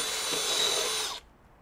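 A DeWalt DCD443 stud and joist drill with a 2 1/4 inch self-feed bit bores through wood, a loud steady whine and rasp lasting about a second before cutting off abruptly.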